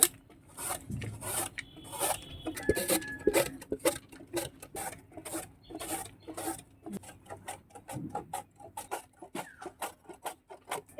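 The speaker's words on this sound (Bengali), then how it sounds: "ওলটা আমি ঘষে নিচ্ছি" Elephant foot yam is grated by hand in quick, rhythmic rasping strokes, close and moderately quiet, repeating steadily with a few brief pauses.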